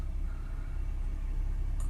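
A Jaguar F-Pace 3.0 with 55,000 miles and an ongoing engine fault idles after starting, a steady low rumble heard from inside the cabin, even and moderately quiet throughout.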